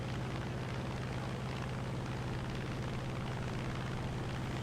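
A P-43 Lancer fighter plane in a video game flies at about 160 miles an hour, its engine a steady, dense drone with a low throbbing hum that holds unbroken and fairly loud throughout.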